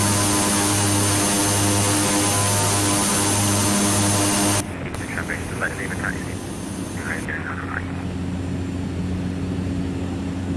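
A Cessna 208 Caravan turboprop engine in the X-Plane 11 flight simulator drones steadily and loudly, then drops to a quieter cabin hum partway through.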